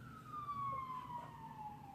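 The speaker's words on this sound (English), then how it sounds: "there's sirens in the background." An emergency vehicle siren wails faintly in the distance, a single slowly falling tone drifting under quiet room ambience.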